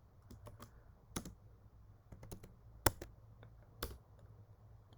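A computer keyboard is typed on in short bursts of close, crisp key clicks with irregular rhythm and a few sharper, louder keystrokes, over a quiet low hum.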